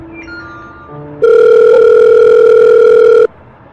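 A steady electronic phone ringing tone sounds for about two seconds, loud and close, after a few brief quieter tones.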